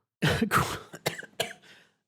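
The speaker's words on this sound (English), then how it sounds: "I'm just coughing it up today." A few harsh throat-clearing coughs in quick succession, close and fairly loud, with no talking.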